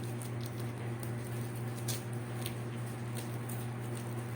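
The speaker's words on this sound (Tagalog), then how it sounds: "Hala, kusog kayong ulan." Heavy rain patters in a steady, dense wash of noise over a low background hum, with no voices and no pauses.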